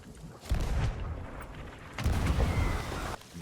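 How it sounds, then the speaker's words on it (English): Cannon fire from a skeleton shooting at a ship in a pirate video game: two heavy booming blasts, each followed by a sustained rumbling roar, loud and close with no talk over it. "There be a skelly firing at the ship."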